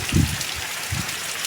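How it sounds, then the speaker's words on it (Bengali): Steady rain with wind hissing across the whole clip in South Bengal, a dense broadband wash with a couple of low thumps, with no one speaking. "প্রচুর পরিমাণে বৃষ্টি হচ্ছে এবং বাতাসও রয়েছে"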